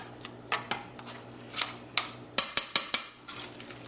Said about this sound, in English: all I'm going to do is mash that nicely